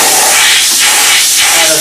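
A steam cleaner blasts around the base of a bathroom faucet, a loud close continuous hiss that swells and eases slightly in two waves.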